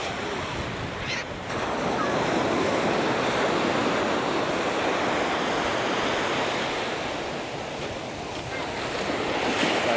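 Ocean waves break and wash steadily onto a Florida beach, a loud, continuous surf roar with wind buffeting the microphone and no talking.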